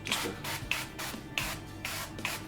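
Four short bursts of aerosol duck fat spray hiss at a steady rhythm onto chicken wings, close and fairly quiet, each with a small click at the start.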